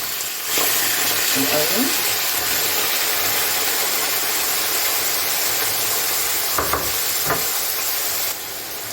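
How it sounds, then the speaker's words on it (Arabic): Chicken pieces go into a pan with two spoons of oil and fry with a loud, steady broadband sizzle and hiss, a few stirring clatters and a brief spoken word on top. "هنزل بقطع الفراخ بتاعتي كده"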